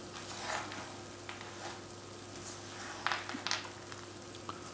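Sugar cooking into caramel with almonds for homemade praliné in a pan: a low, steady sizzle with occasional soft stirring scrapes and small crackles, quiet and close.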